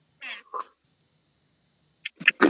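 A person imitates a cat's meow in a classroom game, giving two short nasal meows close up, then a pause before a burst of further quick calls.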